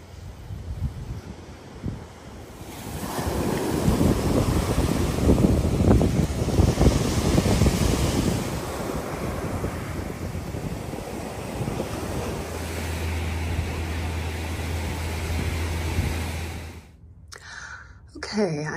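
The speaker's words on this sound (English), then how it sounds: "Let's go to the beach." Ocean surf and gusting wind on a beach, a steady broad roar that swells and holds for most of the stretch with some microphone buffeting, loud and close, ending in a brief shuffle of handling noise.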